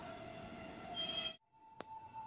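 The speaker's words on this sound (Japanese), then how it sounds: "さて、本日のメイン列車の入線です。" A Meitetsu express bound for Chita-Handa pulls into a station on a weekday morning, a steady rolling rumble with a high sustained whine and a brief sharp squeal after a sudden drop, fairly faint and distant.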